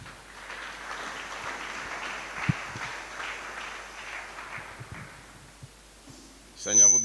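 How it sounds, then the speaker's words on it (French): A church congregation applauds, a soft, distant wash of clapping that swells and fades, with a few thuds and a voice rising at the end. "Sous vos acclamations."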